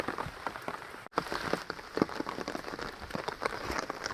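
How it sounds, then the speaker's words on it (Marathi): Steady rain patters on an open farm field in the monsoon planting season, a dense close hiss with scattered drop impacts and a brief dip in the middle. "सकाळपासूनच पाऊस लागतोय"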